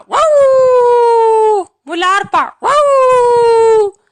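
A person imitates a dog barking and whining, giving two long drawn-out howl-like yelps around a short burst of choppy yipping, loud and close, with talk mixed in.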